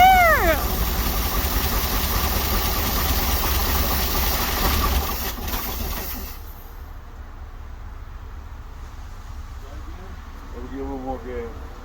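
A 1961 Dodge C800 truck engine runs after more than twenty years of sitting, rumbling loudly and roughly at first, then dropping to a quieter, uneven idle as a voice briefly speaks.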